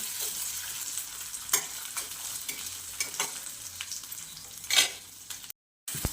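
Peas with ginger-garlic paste stir-frying in a pan give a continuous close sizzle, broken by a handful of sharp scrapes from the spoon as it is stirred, and it goes briefly silent near the end.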